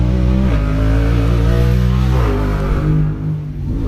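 A 2020 Holland Talent race car engine revs hard up close, its pitch climbing and dropping sharply at each gear shift during High Desert 100 qualifying, loud and steady with no talk.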